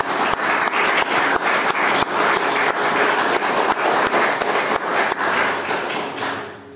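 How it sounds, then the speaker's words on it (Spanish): A church congregation applauds during a Sunday service, with steady rhythmic clapping forming a dense wash punctuated by sharp regular hand claps, loud and sustained before fading slightly at the end. "Entonces usted le da un aplauso al Señor."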